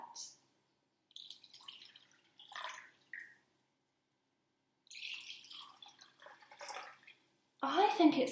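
Water is poured into cups in short trickling, splashing bursts separated by pauses, with soft voice-like sounds mixed in and a louder splash at the end.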